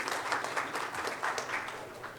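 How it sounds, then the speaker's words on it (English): An audience at a summit session breaks into applause, a continuous, moderately dense stretch of clapping from a seated crowd, heard fairly evenly at mid distance. "Have a big round of applause for CITY-GANDHINAGAR sir."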